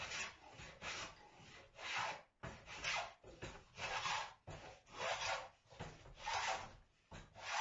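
A wooden hull strip is tapered by hand-filing, producing steady back-and-forth rasping strokes, close and fairly quiet, repeating in an even rhythm of about one stroke per second.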